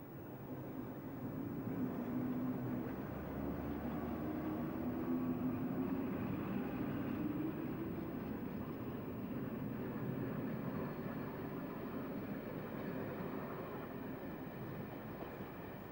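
The steam locomotive Sherlock Holmes pulls away hauling dreadnought carriages, a low, steady rumble of engine and rolling stock that holds at moderate distance for the whole stretch.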